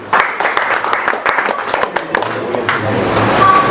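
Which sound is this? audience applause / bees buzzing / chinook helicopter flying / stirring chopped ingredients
audience applause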